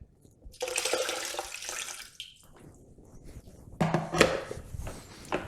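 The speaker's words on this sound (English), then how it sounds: "I'm going to chuck the last bit of hot water that I've got in here." Hot water poured from a kettle into a Dark Matter milk stout homebrew mix, a steady close splashing stream that stops, then a second gush with clinks and sloshing.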